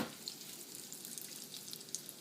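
Breaded steak frying in a pan, a soft, even, faint sizzle with scattered small pops and crackles, close but quiet, no voices.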